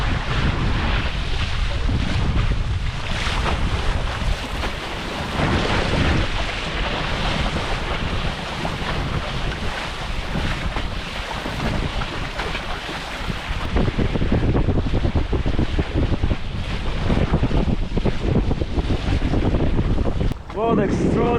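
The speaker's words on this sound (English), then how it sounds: "This is how it looks like. This is some sailing." A MiniCat 520 Explorer catamaran sails through the Stockholm archipelago, with loud, constant wind buffeting and rushing water and waves around the hull filling the whole stretch.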